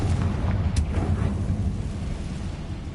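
A Confringo fire spell explodes in Hogwarts Legacy, a deep rumbling blast with a sharp crack near the start that rolls on as a low, sustained boom.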